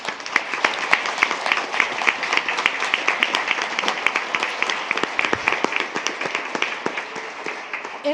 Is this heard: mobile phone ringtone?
no